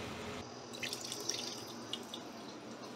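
Water poured from a tap or jug into a pot of Indian chicken curry, a thin steady stream with small splashes and drips, close and fairly quiet.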